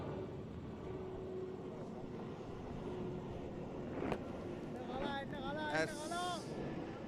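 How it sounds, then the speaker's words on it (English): An airplane passes over an outdoor cricket ground during a division match, a low steady drone with whistling overtones rising toward the end, while a commentator talks throughout. "That's another flight going past"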